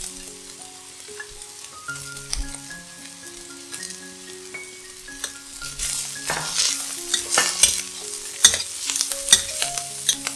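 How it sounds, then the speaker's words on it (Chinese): Bamboo shoots and vegetables stir-fried in a wok for a vegetarian dish, with steady sizzling and scraping stir strokes that grow louder and busier toward the end, over a soft background melody. "放入竹笋，炒一炒。"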